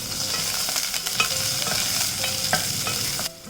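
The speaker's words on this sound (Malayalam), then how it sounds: "ഇതിലേക്ക് കടുകിട്ട് പൊട്ടിച്ചു കൊടുക്കാം." Mustard seeds splutter and crackle in hot coconut oil with crushed garlic, curry leaves and cumin, a loud dense sizzle with scattered sharp pops, close up and with no speech.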